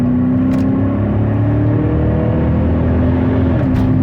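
A Nissan/Infiniti car engine hums steadily at close range during downshift rev matching, with a sustained droning tone that shifts slightly in pitch near the end.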